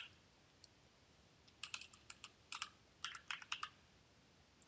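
Keys clatter on a computer keyboard as an Excel chart title is typed in, a few isolated taps followed by two quick bursts of clicking, fairly faint against a quiet room.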